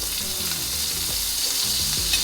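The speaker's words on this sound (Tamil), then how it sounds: "திரும்பவும் இதில் வந்து கொஞ்சம் பட்டர் ஆட் பண்ணிடலாம்" Butter melts in a hot pan for a street-style fried egg, giving a loud, steady sizzle with crackling bursts that continues throughout without any speech.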